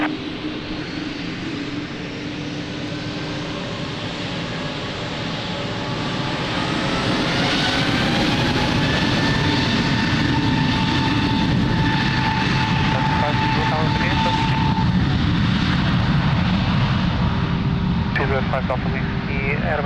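An Airbus A321neo jet departs from runway 02 at Lisbon Airport, its engine roar swelling from a distant rumble into a loud, steady, broadband whoosh, with radio voices heard faintly over it.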